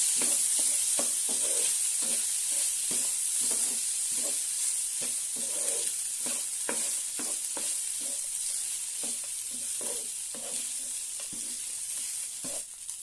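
South Indian lemon rice being sautéed in a pan after lemon juice goes in, a constant hissing sizzle broken by a regular rhythm of spatula scrapes and taps, close and fairly loud.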